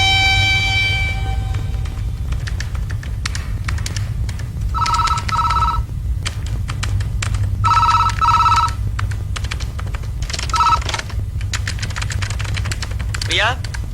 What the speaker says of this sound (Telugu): నీకు ఫోన్